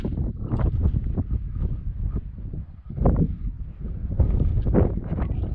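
Wind blowing steadily outdoors near sunset, a loud, continuous rushing and buffeting against the microphone that swells and dips without pause for the whole stretch.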